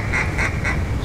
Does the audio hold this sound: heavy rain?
no